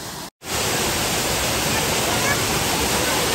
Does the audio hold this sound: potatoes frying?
no